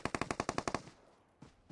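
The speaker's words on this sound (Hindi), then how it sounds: "ओए ये हमारी तरफ फायर कर रहा है" Automatic rifle fire in PUBG Mobile: a rapid burst of about nine sharp shots in steady rhythm, loud and close, followed by quiet with a faint later thump.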